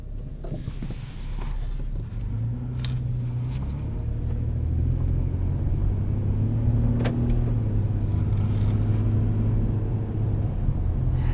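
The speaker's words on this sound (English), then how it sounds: "let's go ahead, take it out on the road" A 2015 Nissan Frontier SV pickup cruises on the road, heard from the cabin as a steady low engine and road rumble with a faint gear shift. Occasional clicks and creaks from inside the cab sit over the drone.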